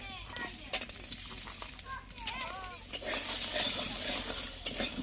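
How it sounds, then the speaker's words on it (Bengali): Lentil dumplings (dal bori) fry in a pan, a moderate sizzle with spoon scrapes and clinks on the metal, and brief faint voice sounds in the background. "আমি ডালের বড়িটা ভেজে নিচ্ছি।"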